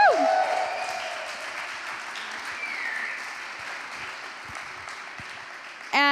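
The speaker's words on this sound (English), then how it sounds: "So let's applaud that." An audience applauds graduates of a nine-week coding bootcamp at a demo day in Lisbon, steady clapping with a whoop early on and tonal calls over it, before a voice resumes at the end.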